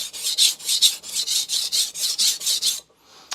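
A Victorinox chef knife bevel is ground on a Morihei whetstone, about a dozen steady rhythmic rasping strokes close up, each a gritty scrape, ending in quiet.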